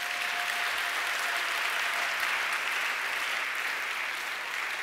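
A church congregation applauds together in a steady, dense burst of clapping that carries on evenly from start to finish, loud and unbroken, with no voices standing out.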